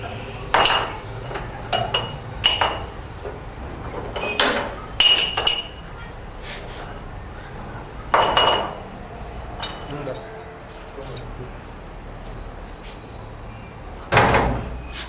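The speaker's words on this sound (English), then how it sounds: "This way you have to open all the clamps to open the chamber cage" Metal clamps being undone and the hinged halves of a chamber cage swung open: scattered clanks, clicks and rattling metal knocks at irregular intervals, close and fairly loud, with quieter handling noise between them.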